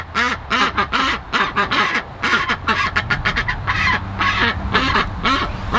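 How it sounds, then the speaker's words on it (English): Several ducks quack loudly and continuously near a freshly refilled backyard pool with frozen peas in it, their calls overlapping in busy, close, raucous bursts. "they're just kind of dipping into it and quacking."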